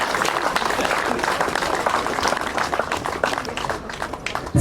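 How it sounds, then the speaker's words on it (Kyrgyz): An audience at a medal award ceremony applauds in a dense, continuous wash of clapping that holds fairly loud for several seconds. "Кол чаап коштоп койсоңуздар."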